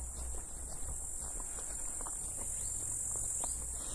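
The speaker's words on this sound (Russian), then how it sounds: "Вон там в кустах сидят кузнечики," Grasshoppers in riverside bushes along a red embankment, chirping loudly in a constant high-pitched shrill drone with faint scattered rustles beneath.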